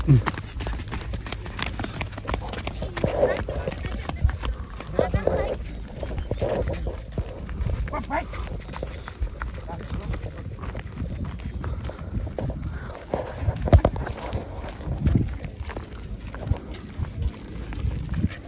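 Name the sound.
bullocks' hooves running in a bullock cart race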